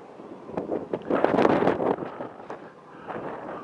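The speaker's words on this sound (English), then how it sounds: "Nice and windy here." Wind gusts outdoors on a cold, open site near an old German ex-military MAN truck, a steady broadband rush that swells louder for a few seconds in the middle and then eases.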